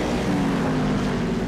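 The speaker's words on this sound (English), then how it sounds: "The engine noises are quite nice in these Cadillacs" Cadillac race car engine droning steadily in a racing video game at the Zolder circuit, a continuous low, even hum with no talk over it.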